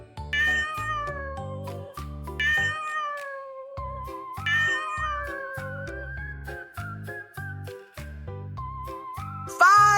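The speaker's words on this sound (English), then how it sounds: "I see 5 black cats walking softly under the glowing moon." Cartoon-style cat meows in a children's Halloween counting song for kids, several short bright meows repeating over steady music with a louder cry at the end.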